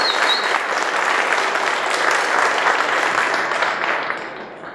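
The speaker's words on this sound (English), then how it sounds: "how about a round of applause for our sharks?" A seated audience at a Shark Tank-style pitch event in San Francisco bursts into steady, dense applause that holds evenly for several seconds and then tapers slightly, with no talking over it.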